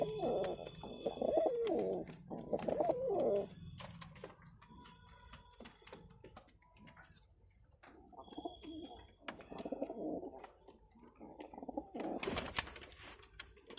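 Pigeons in a paired breeding flock coo repeatedly in soft, rolling bursts, fairly close, with some chirps and faint rustling between calls.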